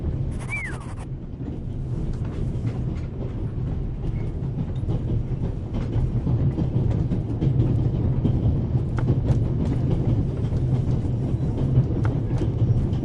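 Swiss train rolling along rails in a video game, a steady loud rumble with faint clicking wheel noise throughout, after a brief high tone at the start.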